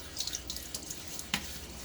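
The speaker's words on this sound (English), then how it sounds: "Again, splashing on the face." Water is splashed onto a face before a shave with a Gillette razor, making light drips and small wet splashes close by, with a clearer splash near the end and no talking.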